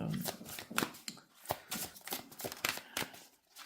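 Tarot cards shuffled by hand, a quiet run of soft crisp riffling and tapping bursts in an irregular rhythm.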